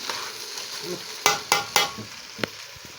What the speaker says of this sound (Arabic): حطيت سمنه وحطيت زيت، وبعدين حطيت الرز وبصوا وقلب